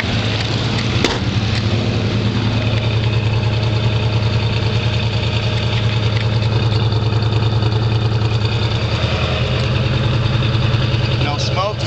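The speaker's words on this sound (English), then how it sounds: "Not touching the gas, it's idling beautiful." A 1965 Ford Mustang fastback with the 289 V8 and four-speed idles at a steady, even low rumble, loud and close, with a brief tap near the start.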